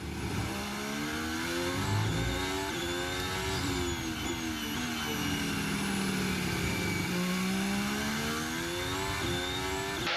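Onboard engine of Kimi Raikkonen's Formula 1 car at the 2017 Hungarian Grand Prix, a loud high-revving scream that climbs and drops through gear changes and corners, continuous and close.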